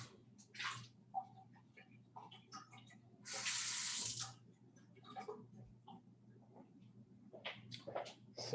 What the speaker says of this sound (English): Rinse that out with tap water a couple times.